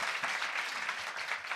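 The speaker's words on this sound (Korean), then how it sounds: "여러분 박수 한번 좀 부탁드리겠습니다" An audience claps together on a talk show stage, a steady, moderately loud patter of many hands that runs without a break and with no voices over it.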